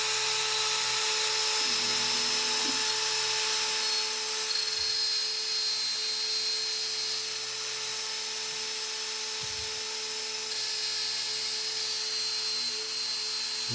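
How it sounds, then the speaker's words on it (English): Shaper Origin handheld router cutting wood with a shop vacuum running, a steady, loud high-pitched whine and hiss holding constant throughout with no talk. "Turn my vac on, turn my router on. And I can start cutting."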